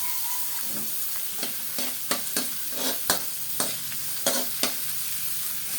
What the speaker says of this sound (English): Stir up the garlic, and then add in our onions.